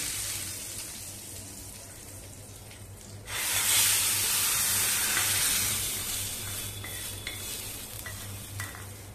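Hot cumin tempering poured onto chutney, a quiet fry that erupts into a loud hissing sizzle midway, then settles into a softer crackle with small stirring clicks.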